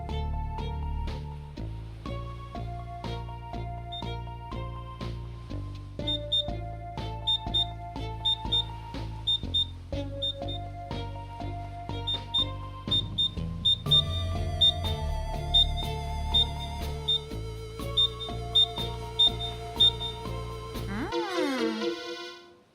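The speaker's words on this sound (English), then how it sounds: "Let's use the metal detector to search the beach for the victim's camera. It'll beep louder as we get closer." A metal detector in a beach-search mystery game gives short, high electronic beeps that repeat in a steady pulse over continuous background music, growing busier toward the end.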